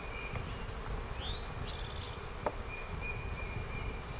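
Honey bees hum around a red Flow Hive outdoors in a faint, steady buzz. A few brief bird chirps and a small click sound over it, and there is no talk.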